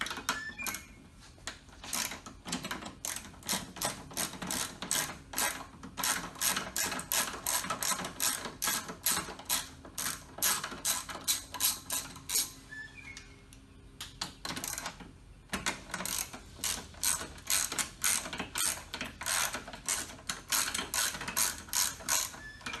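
A ratchet wrench works a Nissan clutch damper bolt, rapid loud clicking bursts close up, repeated in runs with a brief pause midway and no talk.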